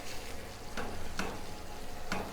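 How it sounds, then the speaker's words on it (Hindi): A spoon stirring semolina halwa as it cooks in a pan, a steady soft sizzle broken by three sharp scraping clicks of the spoon against the pan, spaced unevenly, with no talk. "आहिस्ता आहिस्ता आप चम्मच चलाएं और बाकी की सूजी बस इसमें पक जाएगी"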